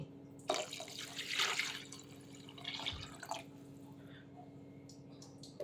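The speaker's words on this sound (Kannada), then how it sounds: "ಇವಾಗ ನೀರು ಹಾಕೊಂತ ಇದ್ದೀನಿ" Water being poured into a pressure cooker holding washed chicken for a Kannada egg and chicken curry: soft pouring and splashing in short bursts, fairly quiet and close, fading to light drips.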